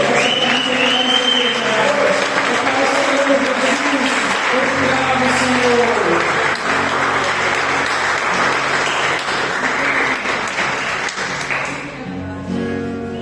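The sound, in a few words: applause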